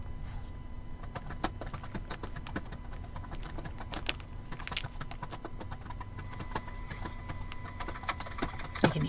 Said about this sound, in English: Hear you typing